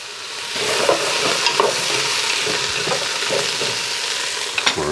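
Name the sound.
onions being stirred in a pot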